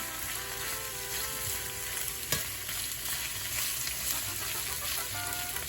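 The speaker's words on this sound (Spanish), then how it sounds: "Y vamos a esperar que la cebolla se acitrone." Onion sautéing in a pan until it turns translucent, a constant close sizzle with soft stirring, a sharp clink near the middle, and faint steady tones and distant clucking in the background.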